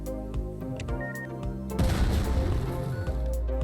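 A big explosion goes off in a Roblox hot potato game. A sudden loud, crackling blast breaks in partway through over tonal game music and keeps rumbling and sputtering to the end.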